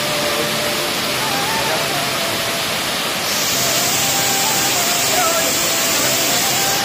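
Steady, dense rushing roar of the Gupteshwar waterfall at Nrusingnath, Paikmal, continuous and fairly close, filling the whole stretch with broadband noise.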